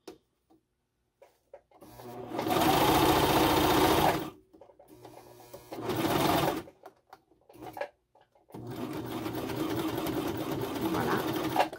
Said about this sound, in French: Quand je vais finir ma couture, je vais repasser exactement dans les mêmes points que j'ai passé au début.